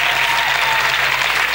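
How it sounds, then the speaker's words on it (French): Church congregation applause, a dense, even wash of many hands clapping close and loud throughout, with no pauses. "We want to give a round of applause."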